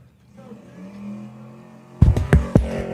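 Race cars roar past at the California 300 in Barstow, a low engine drone building steadily before sharp, loud bursts of passing cars break in near the end.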